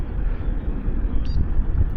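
High wind at Harrier Lake in Illinois buffets the microphone with a continuous, uneven low rumble and roar that swells and eases, close and fairly loud, with no voices.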